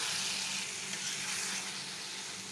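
Potatoes sizzle and fry in hot oil while being stirred, a steady close hiss with soft scraping throughout.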